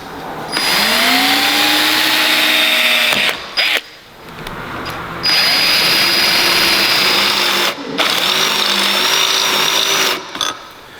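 A power drill bores with its bit during work on a car's exhaust, whining loud and steady in three long bursts with short pauses between them, its pitch sagging under load.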